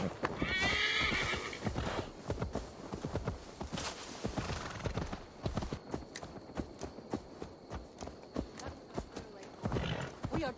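Horse hooves clip-clopping and a horse neighing in the Assassin's Creed Valhalla video game, with a whinny at the start and steady hoofbeats throughout beneath voices talking.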